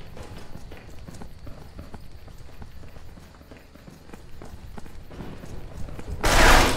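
In the video game Interstellar Marines, a sudden loud burst of gunfire is aimed at a wall near the end, following a stretch of quieter, rhythmic footstep-like tapping.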